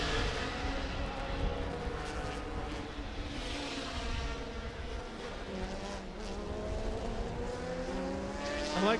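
Race cars at Laguna Seca, including vintage cars such as a 1977 Chevron B39, roar past in a steady, loud engine wash that swells and fades across the whole stretch, with no talk over it.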